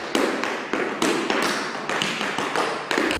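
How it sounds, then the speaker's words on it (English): A steady run of about a dozen sharp taps on a hard surface, close and fairly even in rhythm, with no voices. "Can you make that tapping sound again?"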